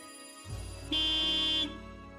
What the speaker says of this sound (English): That was when I heard a honk from the outside.